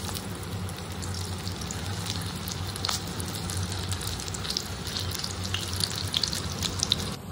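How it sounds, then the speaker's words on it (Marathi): Corn pakoda (bhutta bhajji) batter dropped into hot oil gives a steady, close sizzling hiss that runs unbroken throughout, with no voices. "आपलं आता तेल तापलेलं आहे, तर आपण त्याच्यामध्ये आता आपण भजी सोडून घेऊया।"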